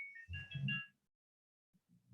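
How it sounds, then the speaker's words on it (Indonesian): A phone rings with an incoming call, a short electronic tone ringing near and clear, followed by quiet and a faint low murmur. "Ntar sebentar ada telepon ya."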